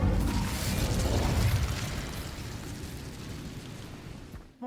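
Incendio fire spell cast in Hogwarts Legacy, a loud whooshing burst of flame that erupts at once and then slowly fades into a crackling rumble before cutting off.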